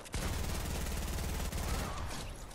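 Rapid, loud automatic fire from the drum gun in Fortnite during an unvaulting event, a dense continuous burst running nearly three seconds with a brief break around halfway.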